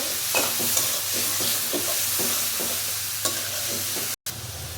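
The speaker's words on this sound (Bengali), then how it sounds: "চিংড়ি মাছটা একটু ভাজা হলে তারপরে মশলাটা দিয়ে দিব।" Prawns fry with taro stolons in a hot pan, a continuous sizzle of oil under repeated scraping and tapping strokes of a spatula as the mix is stirred, with a brief dropout near the end and no talking.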